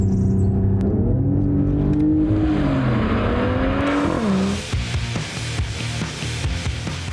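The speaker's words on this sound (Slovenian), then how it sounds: "ko pa pritisnemo močno na plin, pa se seveda sprosti vsa silovita moč tega vrstnega 6-valjnika" A Mercedes inline six-cylinder car engine accelerating hard, with a rising, wavering engine tone that climbs through the revs before a shift, then turns into rougher, louder roaring road and engine noise close by.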